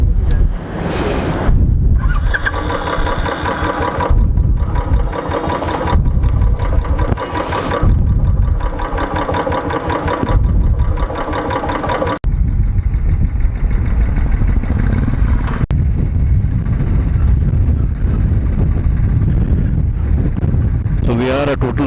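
Three Royal Enfield motorcycles carrying four riders cruise along a road on the way to Karjat from Mumbai. A steady engine drone sits under heavy rushing wind buffeting the microphone, and a rider talks over it early on.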